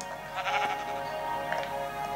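Sheep bleating in the Minecraft video game, a few short nasal bleats close by and fairly clear, with no talking over them.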